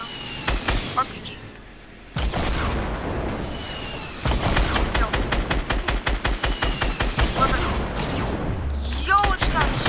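Fortnite Battle Royale gameplay is full of gunfire, including RPG blasts. Single shots and a heavy boom give way to long, rapid bursts of automatic fire, with players talking over the action.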